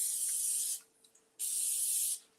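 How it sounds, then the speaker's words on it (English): Two hissing bursts of cooking oil spray on the top and bottom plates of a waffle maker, each under a second long, separated by a short pause with faint clicks. "So I'm going to spray the top and the bottom."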